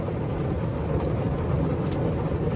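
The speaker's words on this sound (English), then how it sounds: "Guys, it's raining cats and dogs, and it feels so good." Heavy rain pours steadily onto a van, a dense continuous hiss and patter heard from inside, with no talk over it.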